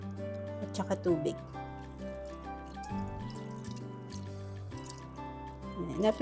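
Water pours into a pot holding mackerel and olive oil for a Spanish-style dish headed for the pressure cooker, a soft liquid splash beneath steady background music.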